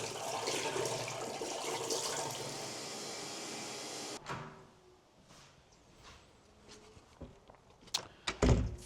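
A tap runs hot water into a sink in a campsite bathroom, a steady close rush of water that cuts off abruptly, followed by quieter clinks and a few sharp knocks.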